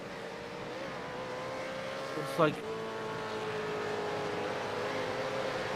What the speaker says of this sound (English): I'm just listening to race car at the moment